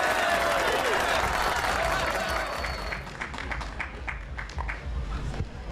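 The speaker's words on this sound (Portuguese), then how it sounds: "Uma salva de palmas aí pro Lucas Malabarista!" An audience at a circus festival applauds a young juggler, clapping and crowd noise loud at first with a whistle, then thinning into scattered claps and murmuring voices.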